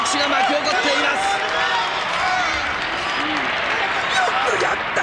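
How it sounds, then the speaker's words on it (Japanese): Arena crowd applause at a judo match in an anime, a dense steady wash of clapping filling the space throughout, with voices mixed into the noise. "場内からも拍手が巻き起こっています。"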